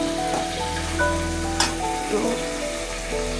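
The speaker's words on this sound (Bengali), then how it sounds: "মিষ্টি কুমারটা কষাবার সময়" Sweet pumpkin fries in a pan with a steady sizzle and crackle, broken by a few clattering stirs of the spoon, close and fairly loud.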